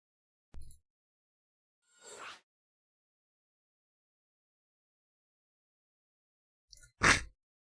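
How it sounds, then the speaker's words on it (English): A single loud, close sneeze from a commentator during an amateur esports match broadcast, with a faint short intake and a breathy burst a few seconds earlier, then quiet between. "Have allergies. I sneezed there."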